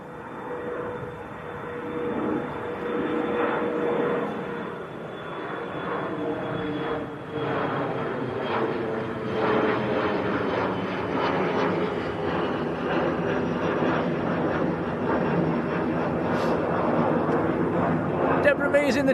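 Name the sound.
aircraft taking off and climbing at Manchester Airport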